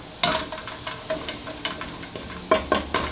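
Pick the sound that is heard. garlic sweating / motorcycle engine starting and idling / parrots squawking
garlic sweating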